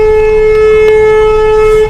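A fire brigade siren wails loud and steady right at a burning vehicle on a road near Mumbai.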